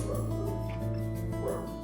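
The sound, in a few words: dogs barking and whimpering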